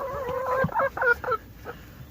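Backyard chickens clucking in short harmonic bursts close by, spreading fresh bedding near their coop on a small homestead, with a few separate calls and brief pauses between.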